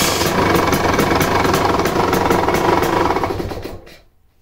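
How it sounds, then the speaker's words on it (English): Dirt bike with a 24-volt starter, cold at 76 degrees after sitting unused, cranking briefly and catching, then running with a loud, close, rapid mechanical chatter for about four seconds before it cuts off abruptly. "So the bike right now is cold, 76 degrees, hasn't been running, and this is how quick it starts"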